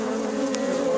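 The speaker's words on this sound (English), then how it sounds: "Big bee." A big bee buzzes close by around a working beehive, a steady continuous hum lasting about a second with no speech over it.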